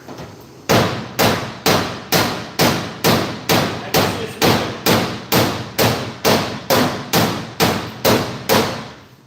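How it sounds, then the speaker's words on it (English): Rapid, evenly spaced metal hammer blows on car bodywork, hammering out a dent, about two per second, each a sharp ringing thud that decays quickly, loud and close. "I get back here with my hammer and I work that valley out"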